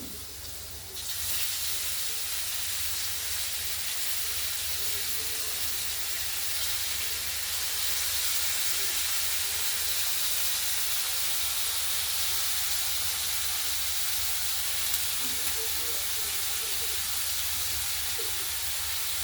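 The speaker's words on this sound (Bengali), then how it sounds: "আলুগুলো মোটামুটি ভাজা হয়ে গেছে, এবার কপিগুলো দিয়ে দেবো।" Cabbage and green peas go into a pan of frying potatoes with green chillies, giving a steady, even sizzling hiss that carries on alone for about twenty seconds.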